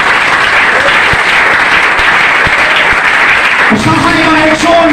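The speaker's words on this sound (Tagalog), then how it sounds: "Palakpak para sa Ginoo." Loud, dense applause from a congregation in a church during a Cebuano-language sermon, sustained throughout; a voice rises over the clapping near the end.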